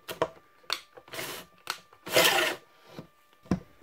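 A 3D-printed shredder driven by a cordless drill chews through plastic parts in short, irregular bursts of grinding and rasping, close by, with brief pauses between each burst.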